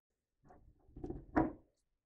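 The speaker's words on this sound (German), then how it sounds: "dann unsere Tür wieder einhängen." An interior room door is lifted back onto its hinges, a few dull wooden knocks and scraping thumps over about a second, the last one loudest, in an otherwise quiet room.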